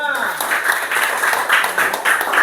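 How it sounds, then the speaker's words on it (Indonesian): A classroom of students claps for a student group, a bright, rapid and fairly close patter of many hands. It begins right after a brief spoken voice and keeps going steadily throughout. "Tepuk tangan untuk kelompok 5."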